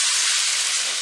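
A loud, close, steady hiss of just-boiled water pouring from a kettle, unbroken from start to finish.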